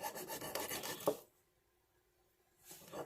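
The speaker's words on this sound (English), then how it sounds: "I can also use my file, set it on the bench." A hand file rasps against a brass workpiece on a shop bench in a short scraping burst, then stops, leaving near silence before a faint resumption at the end.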